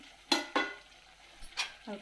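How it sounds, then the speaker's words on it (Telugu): A few scraping stirs of a spoon through chicken bagara rice with tomatoes in a pot, short strokes with brief pauses between them, close by. "ఒకసారి కలుపుకుందాము మళ్ళొకసారి"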